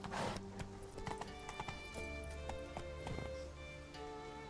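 Horse hooves clip-clop in a steady trot in The Witcher 3, loud and close over a layered game soundscape with occasional whinny-like tones and a low drone.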